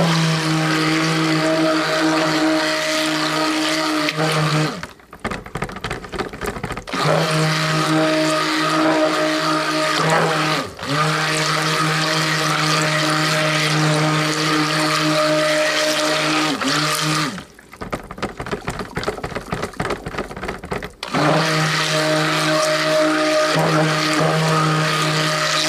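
A blender churns runny tropical colada soap batter in a pitcher, its loud steady motor whine running in long bursts broken by short pauses where the motor stops and restarts, with no one speaking.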